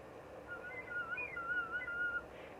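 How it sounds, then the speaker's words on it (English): Faint, high, wavering whistle tones squeak out of a wind instrument blown at too steep an angle, flickering thinly for about two seconds over quiet background hiss. "There's a place where we get these sparkly whistle tones."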